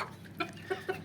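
Chickens at morning feeding time, a mix of hens, roosters and chicks, give three short clucks over a soft background murmur, fairly close and moderately loud, with no one speaking.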